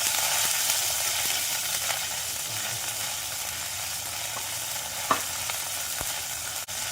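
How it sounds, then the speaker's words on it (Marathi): Finely chopped garlic and green chillies frying in oil in a pan over medium heat, a steady close hiss of sizzling that runs throughout with a few faint clicks and scrapes, no talk. "त्यात बारीक कापलेला लसूण टाकला. लसूण व्यवस्थित लाल होईपर्यंत परतवायचं"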